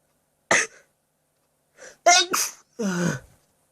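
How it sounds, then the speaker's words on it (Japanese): A person sneezes several times in quick succession, close and sharp, with short silent gaps between the bursts. "今日はね、この、とてもつまらないくしゃみの動画を上げました"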